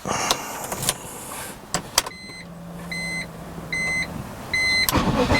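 A BMW E46 M3 with the S54 engine cranks and settles into a low, steady idle after an oil change. Dashboard warning beeps repeat over the hum and a few sharp clicks sound at the start.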